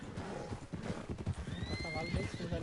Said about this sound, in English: cavalo selvagem aí